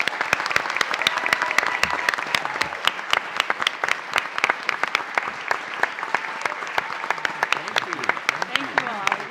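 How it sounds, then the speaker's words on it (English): An audience at a Minneapolis mayoral candidate forum at the Humphrey School gives the candidates a long round of applause, with many crisp individual claps close by. "Can we give them another warm round of applause?"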